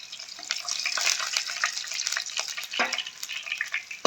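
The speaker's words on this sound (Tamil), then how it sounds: "இப்போ ஒரு 4 கருவேப்பிலை சேர்த்துக்கலாம்." A few curry leaves drop into hot oil in a pan of raw banana masala, giving a close, bright sputtering sizzle that crackles steadily with a sharper burst near the end.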